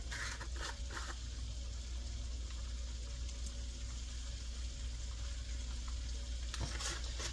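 Steady sizzling and crackling of boiled eggs frying in a pan on medium heat, continuous and fairly quiet, with occasional faint clinks.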